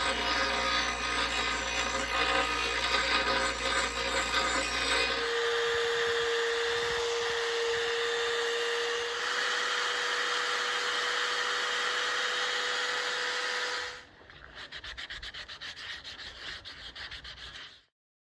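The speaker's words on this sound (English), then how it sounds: "Getting ready to grind that off right now." Grinding excess brazing off the end of a bench vise part during restoration, a loud, continuous abrasive whine with a steady tone that holds for most of the clip, then shifts and drops in level near the end.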